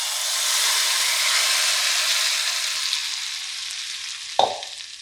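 Hot mustard oil hits amla pickle and hisses in a broad sizzle that slowly fades, then a sudden short clatter near the end, with no talking.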